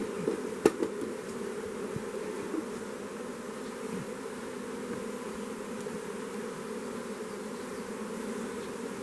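Honeybees drone steadily and evenly at an opened backyard hive being smoked, the close, dense buzzing holding throughout with no voices.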